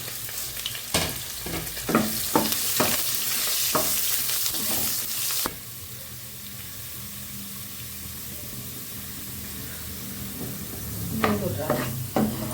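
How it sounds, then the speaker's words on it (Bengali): Potatoes fry in a pan with turmeric powder and salt, a bright crackling sizzle with several quick scraping stirs, then quieter steady frying before another burst of stirring at the end. "একটু হলুদের গুঁড়ো আর সামান্য একটু নুন দিয়ে ভেজে নেব।"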